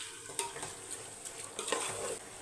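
Prawns go into a simmering tomato gravy in a pan, giving a soft sizzle and bubbling with a few light scraping and stirring sounds, close and fairly quiet.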